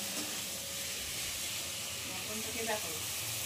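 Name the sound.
mutton cooking in a pan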